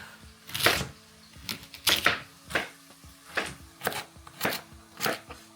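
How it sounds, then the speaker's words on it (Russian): A knife cuts a carrot into cubes on a board, with sharp crisp chops coming about every half second, close and clear. "Режем на кубики."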